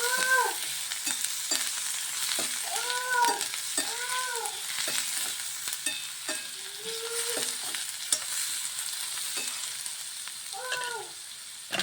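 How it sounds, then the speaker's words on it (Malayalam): Ginger frying in hot oil in a pan gives a steady, close sizzle with repeated scraping and stirring clinks of a spoon against the pan, without speech. "അപ്പം നമുക്ക് നമ്മുടെ ഇഞ്ചി ഒന്ന് പതിയെ മൂപ്പിച്ച് എടുക്കാം"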